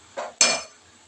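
Carrot halwa stirred in a pan, two quick scraping clinks of a spoon against the metal, close and short, with silence after.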